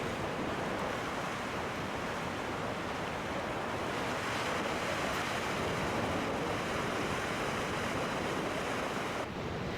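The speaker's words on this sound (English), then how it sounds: "A surge channel cuts through the point, and giant heaves of ocean swell pulse in and out." Heavy Pacific ocean swell surges in and out of a rocky surge channel on the West Coast Trail, a loud, continuous roar of churning surf mixed with wind buffeting the microphone, no voices.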